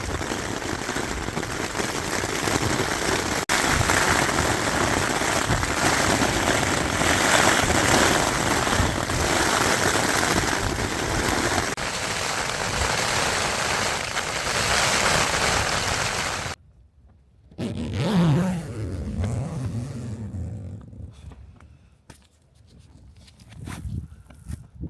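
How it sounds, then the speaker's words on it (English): Wind and rain battering a tent at night on a freezing wild camp, a dense constant drumming hiss for most of the stretch, then cutting out to quieter intermittent rustling and thuds near the end. "The wind and rain absolutely battered"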